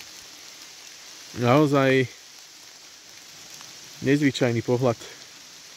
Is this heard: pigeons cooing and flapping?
no